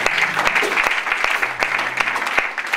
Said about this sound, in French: Est-ce que nous pouvons acclamer aussi pour nous?